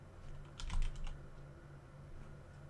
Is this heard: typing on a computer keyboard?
yes